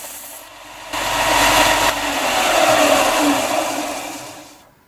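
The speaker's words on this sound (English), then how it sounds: "I'm going to go back to the belt sander and try to get that out" Belt sander grinding a carved stone scarab, a loud, continuous abrasive whir and rasp that swells as the stone is pressed to the belt, then fades as the machine winds down.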